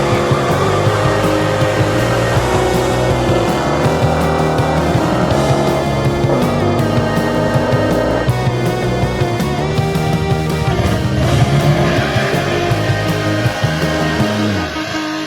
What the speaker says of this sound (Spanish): El sonido de la succión de aire mezclado con el rugido de los escapes de flujo libre